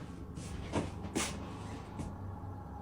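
A wooden drawer bumps and knocks open by itself, giving a few faint clunks and thumps over steady low background hum, with no voices.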